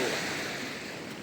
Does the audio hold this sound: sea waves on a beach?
yes